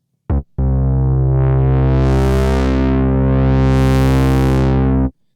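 A 2022 Minimoog synthesizer holds a rich, buzzy sustained note after a short blip, its brightness sweeping smoothly up and down twice under aftertouch pressure. It is loud and close, with no voices.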